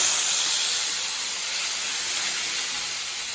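Dried red chillies, green chillies and curry leaves fry in hot oil with a loud, steady, bright sizzling hiss that eases slightly over time.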